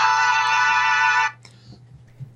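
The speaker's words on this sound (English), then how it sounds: "that is his ringtone" A phone ringtone plays loudly and close for just over a second, a rich sustained electronic chord that cuts off abruptly, followed by quiet background hum.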